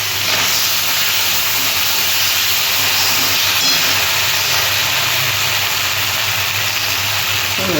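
Chopped tomato and green chili sizzle in a hot pan of oil while a mrigal fish curry with potato and pointed gourd is being cooked, giving a loud, steady frying hiss with no talking.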